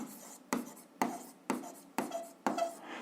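Pen writing an equation by hand on paper, close and quiet; a series of five short scratchy strokes about half a second apart, each starting sharply and fading, with no talk.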